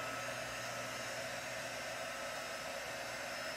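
A heat gun blows over embossing powder on a stamped card, a steady loud close whooshing hiss that runs unbroken throughout, with no talk over it.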